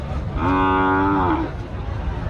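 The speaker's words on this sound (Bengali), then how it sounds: "এটা একটা বড় গরু" A cow gives one long, loud moo at a busy cattle market in Rajshahi, rising over the background murmur and then fading after about a second.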